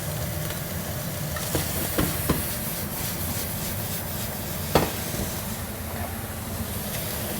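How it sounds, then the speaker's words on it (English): Bacon sizzles steadily in a pan turned down slightly, with a few sharp scraping clicks as it is stirred and flicked around, a constant frying hiss throughout and no talking. "Let that sizzle around. Give it a good little stir and a flick."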